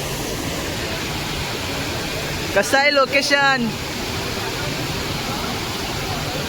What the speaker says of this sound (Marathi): तुम्हाला पाण्यामुळे आवाज येत असेल काय माहीत नाही. पाऊस पण पडतोय